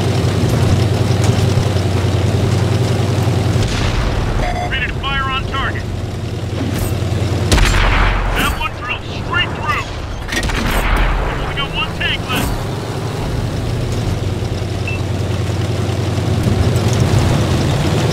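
A tank cannon fires in the World of Tanks video game, giving a couple of heavy broadband booms over a constant low engine rumble, with voices talking through parts of it.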